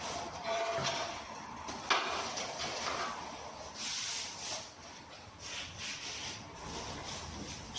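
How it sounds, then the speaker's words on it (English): Thumbs rub down a wooden stair part, producing soft, uneven rubbing and brushing strokes at close range in a quiet room, with no one speaking. "Just get it rubbed down with your fingers, with your thumbs."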